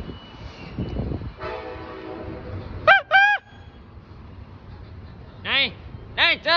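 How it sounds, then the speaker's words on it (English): A MARC commuter train horn sounds at New Carrollton station in a sustained tone, then several short warbling honks follow in pairs, with voices nearby. "Nice job blowing your horn when you're about to leave the station, Mark."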